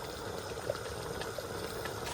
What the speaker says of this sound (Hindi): अभी भी पानी निकल रहा है, बहुत ज़्यादा छींटें पड़ रही।